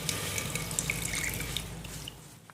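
Drinking water pours into a cooking pot already holding glucose, a steady splashing stream with small gurgles and drips, moderately near and continuous, fading out at the end with no talk.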